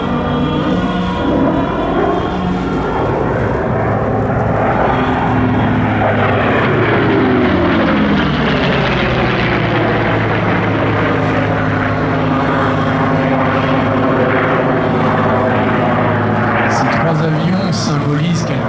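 An F4U Corsair propeller warplane roars past at the Air Legend airshow in Melun-Villaroche, its loud engine note sweeping in pitch as it passes, with a voice talking over it.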